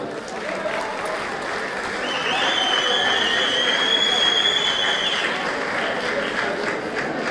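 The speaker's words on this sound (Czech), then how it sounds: "Tak prosím, potlesk pro učitele." Sustained applause from a crowd at a Czech technical school's graduation ball, steady dense clapping that grows slightly louder midway, with a faint tone running above it.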